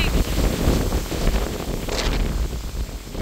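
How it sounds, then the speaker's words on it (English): Steady, loud wind from Hurricane Helene buffeting the microphone with a constant broadband roar, no voices. "It is massively blowing, girl."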